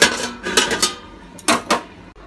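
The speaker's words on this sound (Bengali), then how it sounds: "এবার ঢাকাটা দিয়ে রাখবো।" A lid set onto a cooking pot over a simmering pumpkin and small-fish curry, giving a few sharp metallic clatters and clinks close by, with two clusters of knocks and no talking.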